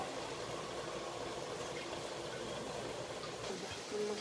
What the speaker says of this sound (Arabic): راح ننزل المي كمان على الرز